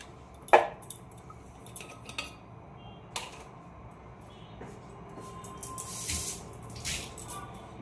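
Something is rinsed under a running tap in a home kitchen: sharp metal and dish clinks early on, quiet handling in between, then short splashy gushes of water near the end, all close and fairly soft.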